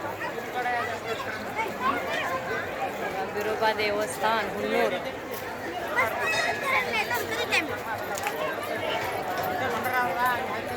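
A dense crowd chatters at the packed Biroba temple in Hunnur, a continuous babble of many voices close around, with one voice speaking above the hubbub.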